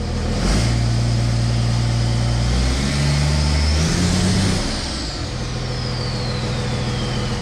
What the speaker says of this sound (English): I went and I started up the car